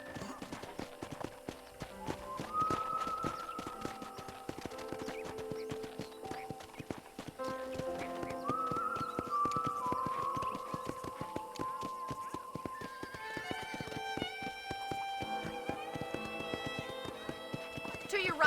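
Horse hooves clip-clop in Red Dead Redemption, a steady rhythmic trot heard under game music and talk, with an occasional whinny.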